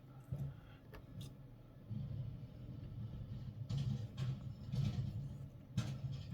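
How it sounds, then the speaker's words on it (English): A neighborhood garbage truck rolls past at a distance, giving a low, faint engine rumble that swells and fades in several waves, with a few sharper clanks and hisses along the way. "hang on till the trash truck goes by. I don't know if you can hear it or not, but it's kind of loud."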